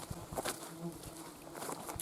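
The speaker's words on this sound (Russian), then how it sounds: "Оводы жужжат." Horseflies buzz faintly and steadily outdoors on a mushroom-picking outing, a thin continuous drone with a few soft rustles and taps.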